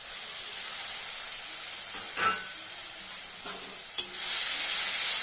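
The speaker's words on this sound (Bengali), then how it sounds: "টমেটোটা না গলা পর্যন্ত আমি এভাবে কষাতেই থাকবো" Chopped tomato and spices sauté in a hot pan, giving a bright continuous sizzle broken by a few sharp stirring scrapes and clinks, with the frying swelling louder at the end.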